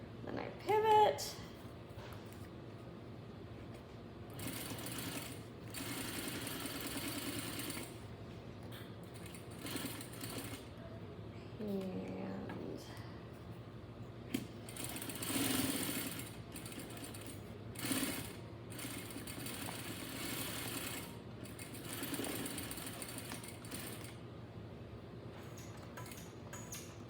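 A sewing machine stitches the seam of a fabric face mask in soft, intermittent whirring bursts with short stops for pivoting and backstitching, quiet and close, while a person talks throughout.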